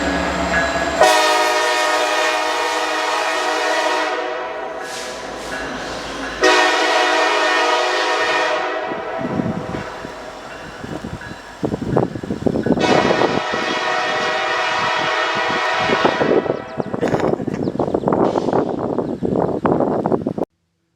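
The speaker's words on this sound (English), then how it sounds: "Our first train is a pair of helper units." Norfolk Southern freight helper locomotives in Pennsylvania rumble past close by with a long, loud horn blast, then heavy engine roar and clattering rail noise continue as the units pass.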